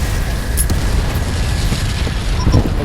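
A big explosion in the space combat game Freespace 2 rumbles as a deep, sustained boom, loud and continuous across the whole stretch, with no voices.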